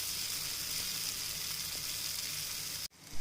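Kuli paniyaram batter fries in oil in a pitted paniyaram pan with a steady, faint hiss and fine crackle that cuts off abruptly near the end.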